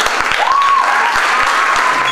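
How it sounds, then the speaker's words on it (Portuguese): Audience applause at a school Christmas party for graduating students, a broad continuous patter of many hands, loud and close, with a few sharp low thumps mixed in. "Uma salva de palmas."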